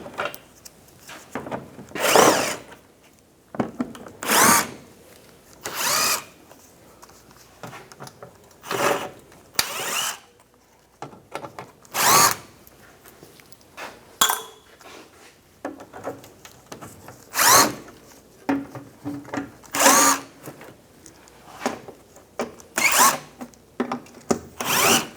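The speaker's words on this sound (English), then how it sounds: "Take these screws out." A power tool with an 8mm socket backs out lower-panel screws on a 2012-2019 BMW 328i xDrive, in a series of about a dozen short, sharp whirring bursts separated by brief pauses, close and loud, with no talking.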